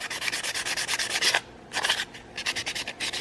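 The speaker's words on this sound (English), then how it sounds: "some light hand sanding" Light hand sanding of a colored paper fingerboard, rounding edges and removing burrs: close, steady rhythmic rubbing strokes in quick bursts, with a short pause midway before the strokes resume.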